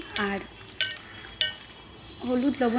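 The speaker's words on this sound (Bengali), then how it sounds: "গরম তেলে পেঁয়াজগুলো দিয়ে দেব।" Onions cooking in hot oil for a Bengali eggplant and tangra fish curry give off soft stirring scrapes and light sizzling in short bursts, with a voice murmuring faintly between them.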